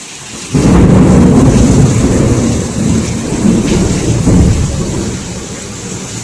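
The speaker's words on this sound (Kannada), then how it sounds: "ಮಳೆ ಬರ್ತಾ ಇತ್ತು" Heavy rain pours down steadily, with a deep rumble of thunder rolling underneath and swelling again midway.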